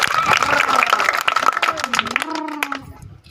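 Spectators at a street magic show clap in a quick scatter of sharp hand claps, mixed in with close, lively talking that carries on as the clapping fades.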